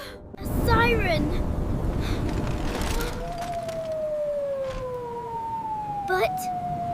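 A tornado siren in a LEGO tornado scene wails in long, slowly falling tones that follow a burst of noisy commotion and voices, with a brief sharp sound near the end.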